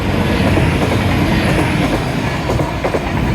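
A train rumbles past close by, a steady loud roar of wheels with faint clattering on the rails throughout.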